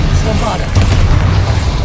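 A Bombarda blasting spell explodes in a wizard school video game, giving a short, loud deep boom that rumbles under a voice speaking over it.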